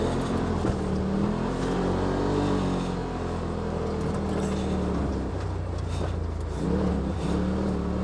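A 2018 Polaris RZR XP Turbo side-by-side on 32-inch Tusk Terabyte tires drives through fresh snow at Green Mountain, its engine droning loudly and close with rising and falling revs as the wheels spin and slide.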